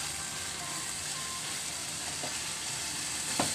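Egg and chopped Malabar spinach sizzle in a hot pan as they are stirred, a constant frying hiss with a faint utensil scrape near the end.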